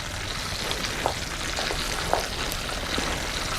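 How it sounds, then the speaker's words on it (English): Chicken fries in a hot pan with a steady close sizzle and scattered small pops and crackles, and no voices. "I'm frying chicken and you're eating it."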